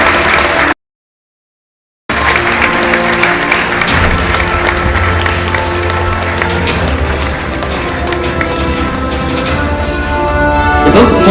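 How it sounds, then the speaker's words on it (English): Loud, sustained applause fills an auditorium at a book release function at Anna University in Chennai, broken by a brief dropout near the start, with a low hum and crowd noise mixed into the dense clapping. "your thunderous applause, which is resonating all through the auditorium"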